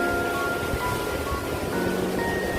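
Sea waves wash steadily onto Chavakkad beach, forming a continuous broadband roar of surf with some wind noise. The sound stays even and fairly loud, and no one speaks.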